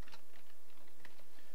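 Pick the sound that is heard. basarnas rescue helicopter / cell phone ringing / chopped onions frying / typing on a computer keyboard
typing on a computer keyboard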